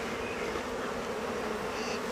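Honey bees buzz steadily and densely throughout while a hive is being split, a close, continuous drone with no pauses.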